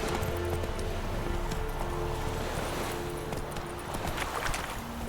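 Roach, a horse in the Witcher 3 video game, galloping with steady rhythmic hoofbeats over a dense ambient game soundscape, with no clear speech.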